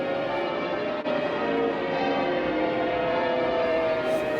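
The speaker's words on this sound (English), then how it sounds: "The combination of the church bells and the beautiful sunny weather was wonderful." Church bells of St Paul's Cathedral ring in a steady, sustained peal, their resonant tones hanging continuously and fairly loud throughout.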